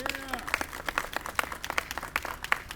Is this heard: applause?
yes